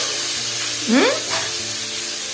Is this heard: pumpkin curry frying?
yes